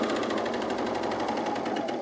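A serger whirs continuously at speed while stitching fabric for men's cargo shorts, a steady close mechanical hum with fast rhythmic needle chatter and no pauses.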